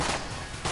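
A brief, dense burst of rapid gunfire from the Enter the Gungeon video game, the shots blurring into one loud rattle.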